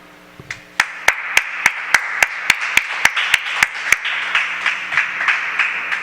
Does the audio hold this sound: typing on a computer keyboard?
no